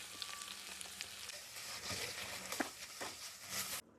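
Whole spices (peppercorns, cinnamon and cloves) frying in a pan, giving a fairly quiet, steady sizzle with occasional stirring scrapes, close by, ending abruptly.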